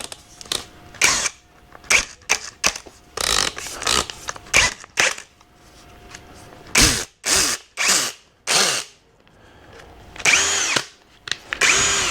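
A Kincrome cordless drill whirs in repeated short bursts, starting and stopping many times with brief pauses, close and fairly loud, with clicking from the clutch.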